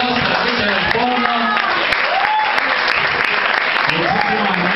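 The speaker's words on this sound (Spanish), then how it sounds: "Vamos, fuerte el aplauso a la gente del pueblo." A crowd at a show applauds and cheers loudly, continuous clapping mixed with shouting voices and whoops throughout.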